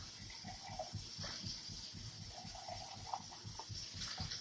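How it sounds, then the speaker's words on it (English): Great northern beans being rinsed under running water, a steady gushing stream from a tap splashing through the beans with soft intermittent clatter, fairly quiet and continuous throughout. "And we're going to rinse those beans real good."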